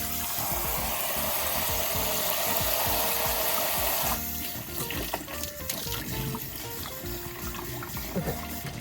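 Water runs steadily from a tap with a broad rushing hiss, and partway through the flow changes character to a lighter, more broken splash.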